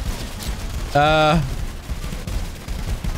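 Rapid, crackling gunfire from rainbow G Fuel bullets in the video game Rounds rattles on continuously in the background, while a player briefly exclaims over it.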